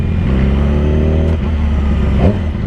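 A Ferrari sports car engine revs loudly and close by in a steady, throaty drone with harmonic bands, dipping briefly then rising again in a short burst near the end.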